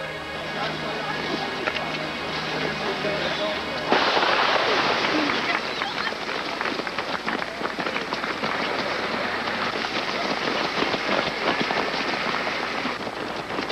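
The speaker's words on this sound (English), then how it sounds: "On your mark, then the gun." A starting gun fires to begin a running race, a sharp report at about four seconds that lifts into continuous crowd noise and cheering from spectators.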